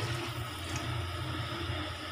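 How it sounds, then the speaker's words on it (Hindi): Water poured into a pot of aloo biryani after yogurt has been mixed in, a steady, low gushing pour filling the pot with no talk over it. "तो अब इसमें ऐड करेंगे हाफ लीटर पानी"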